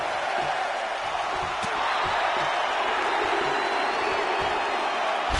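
A wrestling arena crowd in WWE 2K17 roars continuously, a dense, loud sustained cheer with no break from start to finish.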